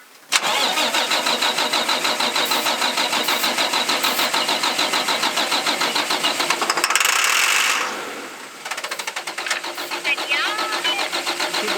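A cold engine given a shot of starting fluid cranks with a loud, rapid, rhythmic whirring, briefly roars near the end, then resumes cranking, close by and with no talking.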